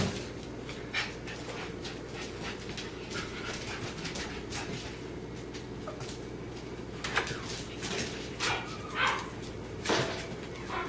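Nine-week-old puppies heard nearby over a steady low background hum, giving scattered short barks and whimpers along with panting.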